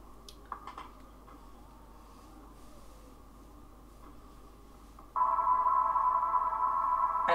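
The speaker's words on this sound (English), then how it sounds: "Ooh, synth." Synthesizer in a song, starting as a quiet, thin backing and then swelling into a loud, sustained bright tone partway through, steady to the end with no talking.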